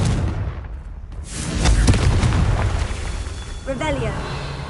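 A Confringo fire spell blast in Hogwarts Legacy erupts with a loud booming burst that swells and then rumbles away, and a voice is heard briefly near the end.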